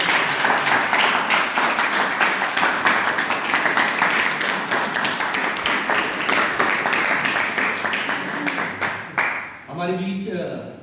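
An audience at a Panjab University cultural event claps loudly and steadily for about nine seconds, dense and close, before fading as an announcer begins speaking.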